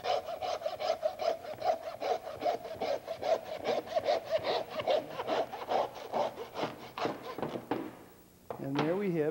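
A saw cuts lamb legs apart, splitting doubles into singles with quick, rhythmic back-and-forth strokes through meat and bone. The sawing is close and steady, then breaks off near the end.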